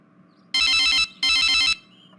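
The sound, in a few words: phone ringing with an incoming call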